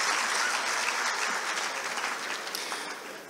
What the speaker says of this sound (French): Par des applaudissements, je pense que nous pouvons